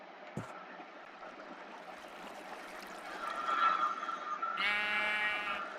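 Sheep bleating in a video game while exploring terrain, a bleat rising near the end over steady game ambience with faint water-like background sound.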